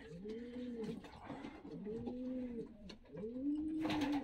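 A young pigeon coos close by in a loft, several soft rolling coo phrases repeating roughly every second, fairly quiet and with no voices.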